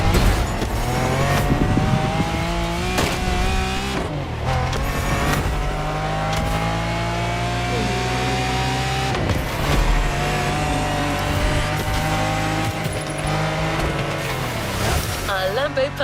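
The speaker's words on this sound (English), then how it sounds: "It's the fastest supercar from the early 90s and a Lamborghini for a whole new generation." A Lamborghini Diablo supercar from the early 1990s driving in the racing game The Crew Motorfest, its engine roaring loud and steady with repeated revving shifts through the gears, while a narrator talks over it.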